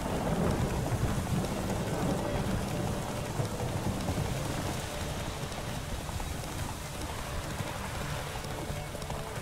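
A night thunderstorm in The Witcher 3 rolls on with heavy continuous rain and low rumbling thunder, loud and steady throughout with no speech.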